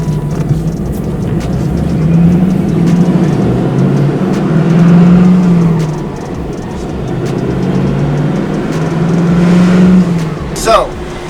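A Pontiac Trans Am WS6 cruises and accelerates on the road, its engine a steady low drone rising and falling with throttle, heard from inside with a voice talking over it.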